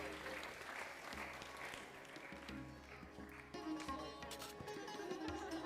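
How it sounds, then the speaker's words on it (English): Wedding crowd applauding the groom, a steady wash of clapping that swells louder partway through, with voices and background music mixed underneath. "Big round of applause for our groom"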